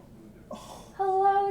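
A cat gives a short meow after a moment of quiet, the call rising into a clear tonal cry that holds briefly, close by and alone.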